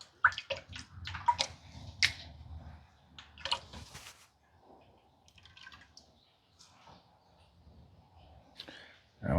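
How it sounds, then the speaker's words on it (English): Peanut oil is poured from a jug into an outdoor fryer, heard as faint glugging and splashing with scattered clicks and small knocks, close by and quiet. "Let's get the oil in."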